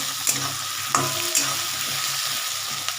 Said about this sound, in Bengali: এটা একটু ভাজা ভাজা হতে থাকুক